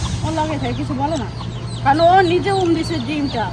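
A hen clucks repeatedly at close range in a series of wavering, throaty calls, with a steady low hum underneath.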